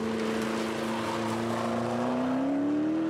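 A McLaren 650S races on a circuit near top speed, its loud engine holding a steady high drone whose pitch climbs slightly toward the end, continuous and close, with no talk over it.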